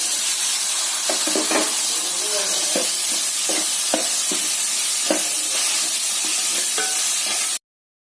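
Mango pieces fry in a pan with Kashmiri chilli powder and turmeric, giving a dense, loud sizzle with a broad hiss and scattered spoon-stirring clicks, ending abruptly.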